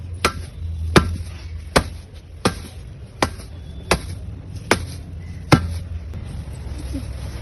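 Cloth bag of garlic bulbs twisted shut and beaten on a rough surface, giving eight sharp, evenly spaced thumps that ring out close and loud against a quiet background.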